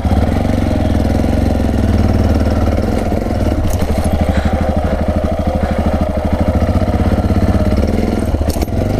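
Yamaha XT660R single-cylinder motorcycle being ridden on a single track, its engine thumping loudly and steadily at low revs with a close, rhythmic pulse and a few brief knocks near the end.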